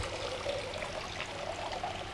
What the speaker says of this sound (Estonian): üleliigne kastmisvesi tilgub potist välja